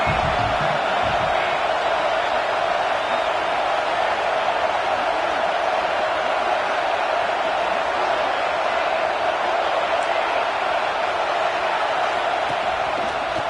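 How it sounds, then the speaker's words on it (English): A big home crowd at a Nebraska versus Georgia college football game roars steadily, a dense, far-spread wall of cheering that holds at the same loud level throughout. "how nice is it to have the home crowd going absolutely bananas?"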